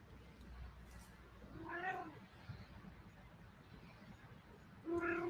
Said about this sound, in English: We have a cat visiting us.